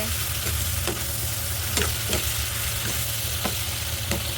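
Corned beef and onion fry in a pan with a steady close sizzle, punctuated every half second or so by sharp scraping strokes of a stirring utensil, no voices.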